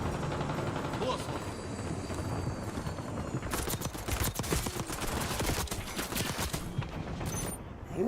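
Rapid bursts of gunfire in the video game Warzone, dense crackling volleys that build midway and continue in clustered rattles, loud and close, with game noise around.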